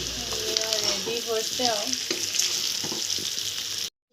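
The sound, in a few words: potatoes frying in pan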